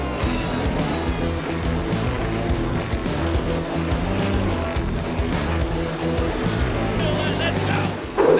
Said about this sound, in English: it is time to start your engines!